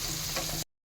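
Onions fry in oil in a pan, a dense close sizzle lasting just over half a second before cutting off abruptly into silence.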